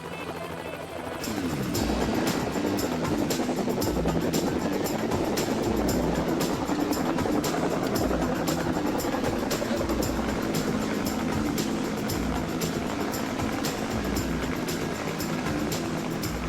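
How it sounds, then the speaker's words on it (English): A firefighting helicopter's steady, heavy rotor thrum and engine roar, loud and continuous, with rhythmic blade chopping throughout and no speech. "A helicopter is an unforgiving vehicle to fly in the best conditions."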